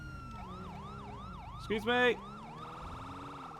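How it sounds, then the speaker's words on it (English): Wailing police sirens from the GTA 5 LSPDFR game, a steady rising-and-falling wail with a brief yelping burst midway, loud and continuous while a voice briefly speaks. "We can actually cycle through the different sirens with the controller."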